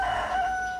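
A rooster crows on a chicken farm, one drawn-out, fairly close call that rises and trails off, heard alone over soft outdoor background.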